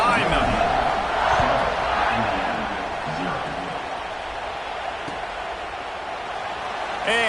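A football stadium crowd cheers and roars before kickoff, a loud, broad wash of voices that swells early and then settles into a steady murmur, with a commentator talking over it.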